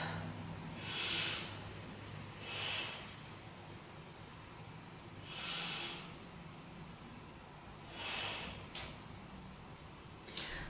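Four or five slow, deep breaths during a yoga stretch, each a soft airy whoosh spaced a couple of seconds apart, close and fairly quiet over faint background hiss.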